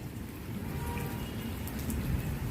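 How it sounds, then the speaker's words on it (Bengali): Steady rain falls on a Sunday morning, a continuous dense patter with a low rumble, fairly close and even throughout, with no voices. "বৃষ্টি দিয়েই দিনটা শুরু হলো"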